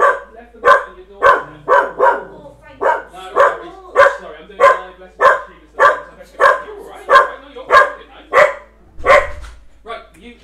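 A dog barks in repeated loud, close bursts, about a dozen in a fairly steady rhythm, alone apart from a faint low hum.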